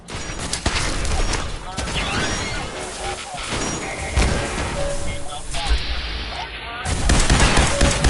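Gunfire in the video game Fallout 4, loud rapid volleys mixed with crashing impacts, continuous and chaotic throughout, with game voices calling out over the shooting.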